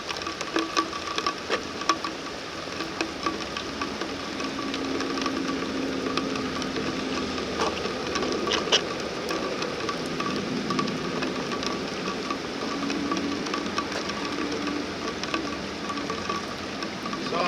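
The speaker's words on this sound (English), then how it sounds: "It is raining" Rain falling outdoors at a home base beside a parked vehicle, a steady dense hiss with light patter that continues evenly throughout, with no voices.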